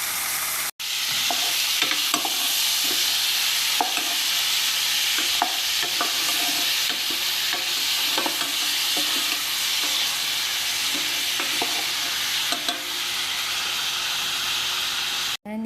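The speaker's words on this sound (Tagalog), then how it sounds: "Gigisa lang po ako ng sibuyas at kamatis." Onions and tomatoes sizzle steadily in a hot pan with a broad frying hiss, with pork added, while a spatula scrapes and stirs now and then throughout.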